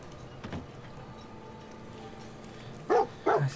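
Dogmeat, the dog companion in Fallout 4, gives two quick barks near the end, close and clear over a low ambient game background after a faint earlier thump.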